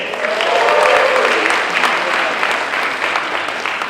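A crowd at a San Diego Comic-Con panel applauds steadily for several seconds, the clapping swelling early and then holding at a lively, even level.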